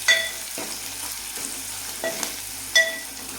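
Garlic sizzling and frying in a pan with salt and turmeric, a steady close crackle broken by several sharp scrapes of stirring, with no talking.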